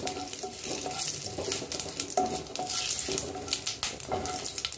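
Whole cumin seeds spit and crackle as they fry in a hot mix of oil and ghee, a steady close sizzle with faint clinks of a pan or spoon throughout.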